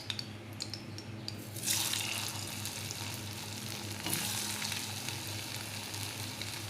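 Gulab jamun sizzle steadily in warm oil over a low flame, with a constant crackling hiss, a brief watery splash near the start and a louder surge of bubbling partway through.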